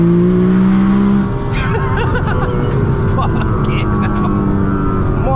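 A 2000 hp Nissan GTR pulls hard with a loud engine drone that steps down at a gear change, then keeps surging with a busy, rough roar while voices speak over it.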